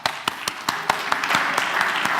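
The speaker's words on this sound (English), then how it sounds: "give these people one more clap" Scattered claps from a small audience at a PHP community conference, a dozen or so sharp hand claps at an uneven pace, gradually thickening into brief light applause.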